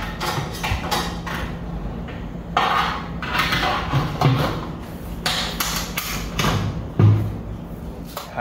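Metal clamp fitted and tightened onto the funnel of an auger filler, giving a few sharp knocks and clanks among softer handling rattles and scrapes, close by and without talk.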